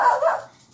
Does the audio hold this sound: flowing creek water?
no